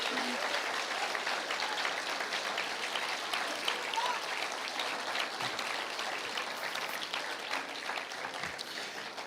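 Church congregation applauding during a Portuguese-language sermon, a dense, even wash of many hands clapping that continues steadily for several seconds at moderate volume.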